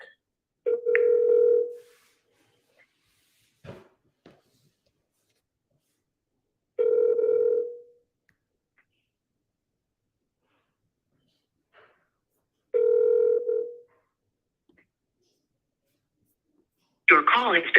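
A telephone rings out while a broker is being called, three long evenly spaced ring tones separated by silence, clear and close, with a faint breath between and a burst of sound at the end.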